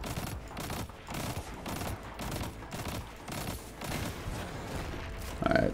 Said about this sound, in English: I need to shoot something with a normal gun so I can get some ammo to drop